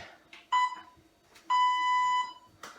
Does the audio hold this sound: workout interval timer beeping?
yes